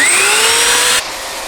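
An ArmorAll Vac-Mate shop vacuum with a 2 horsepower motor, used to clean a car interior, runs with a loud, steady high whine for about a second, then cuts off abruptly, leaving a quieter hum.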